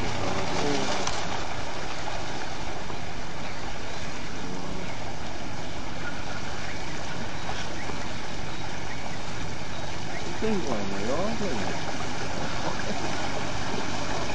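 A classic 1933 wooden speed boat's engine drones steadily while water rushes and churns against the hull, loud and continuous throughout, with faint voices now and then.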